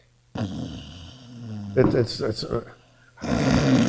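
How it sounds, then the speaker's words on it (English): A deep, rasping snore rumbles in drawn-out breaths from a man sleeping backstage in a dressing room, with a short stretch of speech-like sounds between the snores. "He's sleeping backstage in his dressing room. That's snoring."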